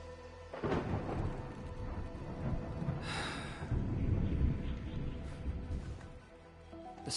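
Thunder rumbles low and broad beneath steady rain in the Arknights Endfield game world, one brighter crack rising midway, with faint breathy vocal sounds layered over the wet hiss.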